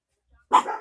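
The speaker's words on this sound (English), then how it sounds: "I don't usually hear that kind of barking." A single sharp dog bark rings out close and loud after near silence, trailing off quickly.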